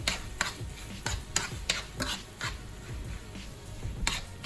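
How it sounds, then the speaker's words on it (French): A spoon stirs rice and tomato sauce in a paella pan with prawns and langoustines, giving repeated sharp scraping knocks against the pan at an uneven rhythm over a soft sizzle, close and clear. "Je mélange bien."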